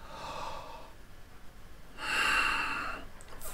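Two breaths: a softer exhale, then a loud, close, airy inhale drawn through a wide-open mouth lasting about a second, with no talking.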